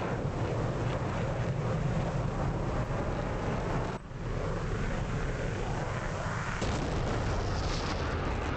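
Bomb explosion during a night bombing raid in the DCS flight simulator, a heavy boom set inside the steady roar of aircraft engine noise that runs loud and unbroken throughout.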